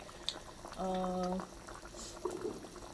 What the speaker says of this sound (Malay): Tumis kari ikan sampai pecah minyak kan.